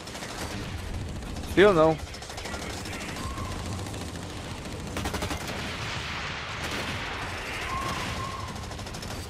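Covering gunfire crackles in Blacklight Retribution as scattered bursts under steady background game noise, with a person speaking briefly and a sharp electronic chirp cutting in near the start.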